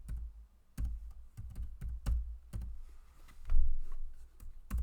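Typing on a computer keyboard while working in Excel: close, distinct key presses in an uneven rhythm, about a dozen clicks, quiet room with no talk.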